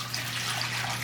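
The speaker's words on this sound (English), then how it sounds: "I'm gonna just put a little bit of water in here" Water trickles steadily into a pot for vegan dal makhani, a continuous soft liquid stream with a low steady hum underneath, no talking.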